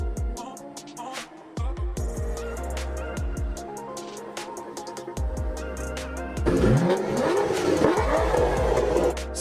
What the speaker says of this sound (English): this one has a V12 engine, which sounds more full-bodied and powerful